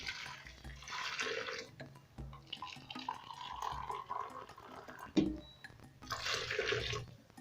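Hot water poured into a pot of beef with coriander leaves and salt, a steady close splashing and trickling pour with brief pauses and a clunk midway, no talking.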